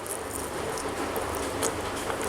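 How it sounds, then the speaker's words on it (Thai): Light rain patters steadily on a surface outdoors, a soft continuous hiss of drops with no voices. "ฝนตก หน่อยๆด้วย"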